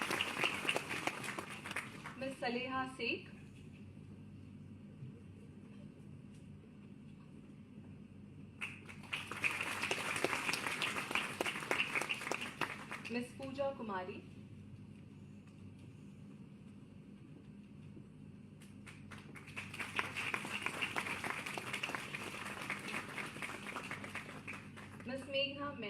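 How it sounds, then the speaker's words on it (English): An audience at an International Day for Women in Maritime event applauds panelists in two sustained bursts of clapping, each lasting several seconds, separated by a voice announcing names over a microphone. "A big round of applause, please."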